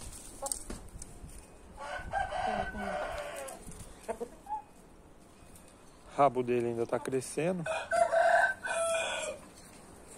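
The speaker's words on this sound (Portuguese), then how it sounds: "É um galo novo." A young rooster crows twice, a shorter call first and then a longer strained one, against quiet outdoor background with a person speaking softly between calls.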